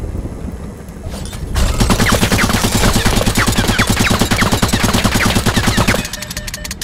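An automated sentry gun in the Worms WMD video game fires a long, loud, rapid stream of evenly spaced shots for about four seconds, with a louder blast kicking off the burst.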